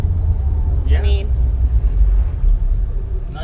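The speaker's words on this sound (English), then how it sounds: "Now you hear the tire noise." Steady low tire roar and road rumble from a Jeep Wrangler with a Dana 35 rear axle driving along, heard from inside the cab, with a brief voice in the middle.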